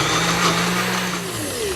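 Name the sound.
KitchenAid Ultra Power blender mixing beans and onion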